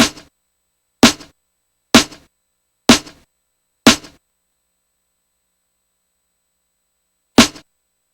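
Unprocessed snare drum sample, played without zero-crossing folding, sounds as five sharp, loud hits about once a second, then a pause and one more hit, each a crisp broadband crack with a short decaying tail.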